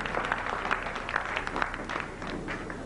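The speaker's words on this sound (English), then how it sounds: "let's give this program a great big round of applause" An audience at a lecture claps at the close of the program, a moderate, somewhat distant patter of hands with a few sharper individual claps standing out.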